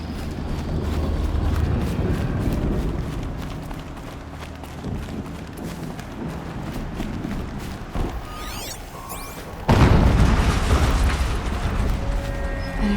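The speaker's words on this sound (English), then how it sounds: "An explosion." An explosion goes off in Horizon Zero Dawn on PS4 Pro, a sudden loud burst partway through, set in a steady dense wash of game ambience and mechanical noise, with no speech.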